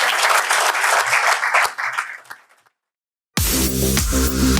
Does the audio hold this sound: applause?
yes